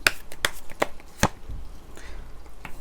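Tarot cards are shuffled and drawn by hand at close range, giving a quick series of crisp snaps and flicks with soft paper rustling between them.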